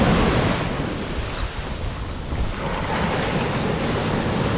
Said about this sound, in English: the waves are breaking a little bit better here